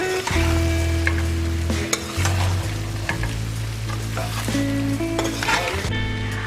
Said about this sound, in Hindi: अब हम इनको मिला लेंगे अच्छे से मसाले में